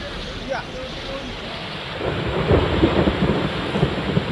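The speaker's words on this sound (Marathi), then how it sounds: "सिल्लोड तालुक्यात काळा कालपासून मुसळधार पाऊस कोसळतोय" Heavy monsoon downpour in Sillod taluka, Maharashtra, a steady broadband roar of rain that thickens after the first two seconds, with low rumbles of thunder rolling underneath and some wind buffeting the microphone.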